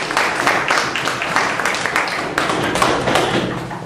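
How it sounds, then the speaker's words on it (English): A debate audience applauds the speakers, many hands clapping loudly and densely at close range, a continuous rattle with occasional thuds from the room. "Let's give the speakers a round of applause."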